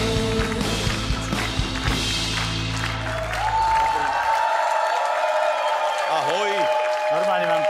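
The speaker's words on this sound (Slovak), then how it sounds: "Takýto potlesk" A TV talk-show studio audience on the Slovak late-night program Neskoro Večer bursts into steady, loud applause as music fades out. The clapping continues to the end, with a voice briefly heard over it near the close.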